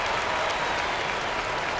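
A home crowd in an NBA 2K25 basketball game, Clippers against Lakers, claps and cheers in a steady, dense wash of applause.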